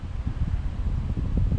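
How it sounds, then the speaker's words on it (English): Gusty wind at an outdoor fishing spot buffets the microphone with a steady, loud, low rumble for under two seconds, with no other sound standing out. "She's windy, it's gonna rain at any minute now."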